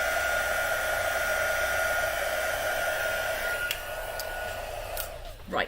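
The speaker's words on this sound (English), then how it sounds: "my heat gun clearly worked" A heat gun used for heat embossing at a crafting table blows with a steady, close whirring hum, then clicks and shifts near the end as it is handled.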